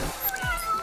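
A short, close meow from the cat demon Kuro in a video game, a quick wavering cry under a second long with a thin tonal line running through it.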